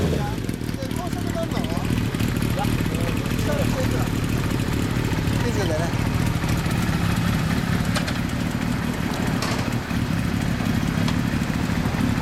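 Kawasaki Zephyr 750RS motorcycle fitted with a Mid Knight exhaust idling steadily with a low, continuous rumble, close by, while people talk over it.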